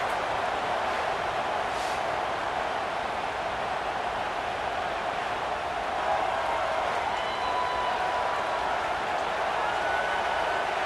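Steady, dense roar of a stadium crowd in the College Football 26 video game as the field goal unit lines up on fourth down, a constant wash of noise with no clear peaks.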